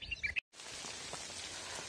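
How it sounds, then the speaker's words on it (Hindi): Heavy rain coming in from Mukteshwar over a hill village makes a steady, dense hiss after a brief cutout, with a few bird chirps just before it. "वो देखो मुक्तेश्वर से कितनी तेज वाली बारिश आ रही है"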